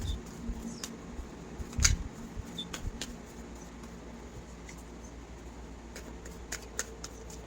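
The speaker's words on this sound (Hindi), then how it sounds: "पहले मैं गाइडेंस के लिए ओरेकल कार्ड से आपके लिए गाइडेंस निकाल लेती हूँ" Oracle cards are shuffled and drawn for a tarot reading, giving soft, irregular riffling rustles and small slaps against a quiet background, with one sharper flick near the middle.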